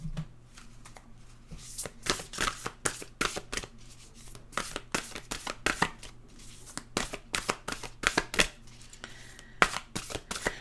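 Oracle cards being shuffled by hand, a steady run of crisp riffling slaps and flicks with short pauses, close and fairly quiet, with no talking.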